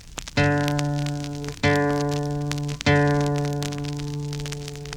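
Three evenly spaced plucks of the open D (fourth) guitar string, each low note ringing out steadily and decaying gradually, with no voices.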